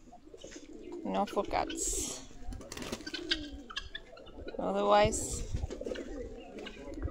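Pigeons coo in bursts from a pigeon house, a couple of clear cooing phrases standing out over a busy background while someone talks nearby throughout.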